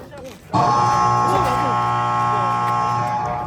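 A loud, sustained basketball shot clock buzzer at a local league game blares suddenly and holds steady for about three seconds, with voices chattering faintly underneath.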